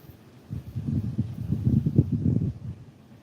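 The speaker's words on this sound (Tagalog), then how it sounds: "pumalit yung malakas na hangin mga ka-idol, pabugso-bugso" Gusty wind from Typhoon Uwan rumbles in low, irregular surges that swell and fade for a few seconds before easing off.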